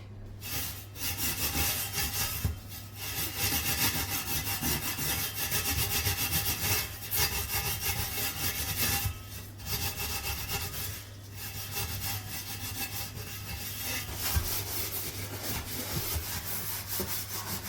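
Steady, close rubbing and scrubbing inside an oven while cleaning the back wall, a continuous rasping scrape with rhythmic strokes and brief pauses, loud and alone without talk.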